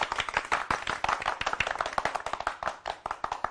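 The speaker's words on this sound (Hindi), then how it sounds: "तालियां।" A small group claps by hand in a quick, uneven rhythm of distinct close slaps, steady for a few seconds at a modest level, with no talk over it.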